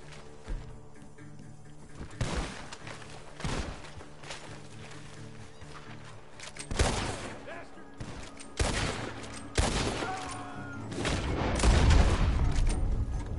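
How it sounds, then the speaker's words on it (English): Gunfire from a barn in the video game Red Dead Redemption 2: a burst of loud, sharp shots, some single cracks and some rapid clusters, spread across the scene over a steady background with faint voices. "Gunshots are coming from that barn."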